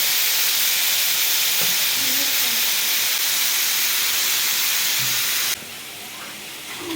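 Chicken fries in a pan for Syrian shawarma, giving off a loud, steady, close hiss of sizzle that drops sharply quieter near the end.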